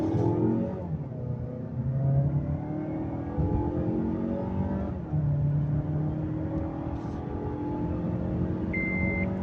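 A car on a test drive after its fuel injectors were replaced for a random cylinder misfire revs up in rising engine sweeps, easing off twice and climbing again, with a short electronic beep near the end.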